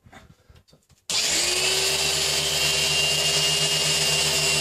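After a few soft knocks, a Meguiar's dual action polisher with a microfibre pad starts up on car paint with 2500-grit sanding marks, running with a steady, loud, high whirring hum that continues without a break.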